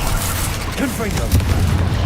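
Spell blasts from the Confringo fire spell in Hogwarts Legacy, a couple of dull booming bursts in busy game audio with a voice speaking over them.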